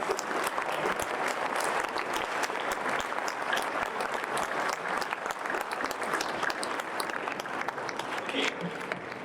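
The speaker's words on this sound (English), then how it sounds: "can we have a round of applause for all" An audience applauds the young scientists at a youth science event, with continuous, fairly even clapping from a large crowd that holds steady for over nine seconds at moderate level.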